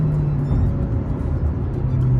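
A Skoda Slavia 1.5 TSI engine drones loudly and continuously from inside the moving car while it shifts gear, a low, steady hum that dips briefly before resuming its even pitch.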